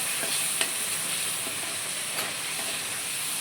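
Chole chana masala is stirred in a hot pan, giving a steady hissing sizzle with a few soft utensil knocks against the pan, close and continuous, with no voices.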